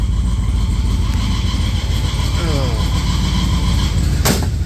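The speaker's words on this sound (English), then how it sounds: "As soon as I get out, it goes away, and then you hear the idle kind of pick up on it." A car engine idling with a steady low rumble throughout, close and continuous, with a brief sharp knock near the end.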